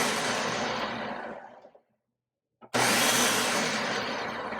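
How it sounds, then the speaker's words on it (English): A kitchen blender pulses black-eyed peas with plenty of water, loud whirring grinding that cuts off, leaves a second of silence, then roars back up again for another burst. "put that in my blender and blend and just pulse it"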